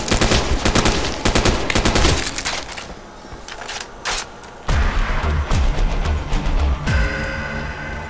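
An M16 rifle in a modern-weapons mod for Call of Duty: World at War fires several loud bursts of rapid shots, with a short lull between volleys.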